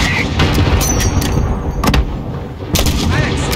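Loud mortar blasts and gunfire in a Call of Duty Modern Warfare battle, several sharp booming hits spread across dense combat noise, with a voice calling out beneath.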